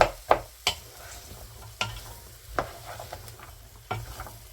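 Beef cassoulet ingredients sweat in a pan with a soft, low sizzle, broken by several sharp scrapes and clinks of stirring spaced a second or so apart.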